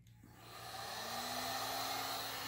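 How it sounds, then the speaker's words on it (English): A heat gun set to high heat for epoxy resin work switches on and spools up, settling into a steady, close whooshing blower hiss with a faint motor whine that grows slightly louder and then holds. "Okay, so here's the heat gun."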